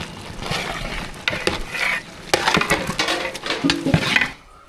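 Sambar of rice, dal, chilli powder, turmeric and sambar powder being stirred in a pot, heard as close, irregular scraping and clattering strokes with a soft sizzle underneath and no talk.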